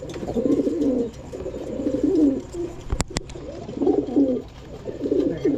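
Pigeons cooing in repeated low throaty bursts, close by, with a couple of sharp clicks in the middle; no one talks.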